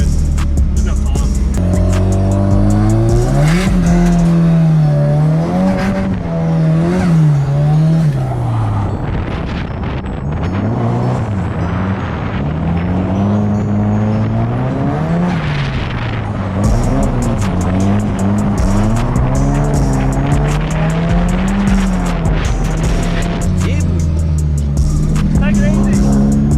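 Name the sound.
loud drift car revving with tire squeal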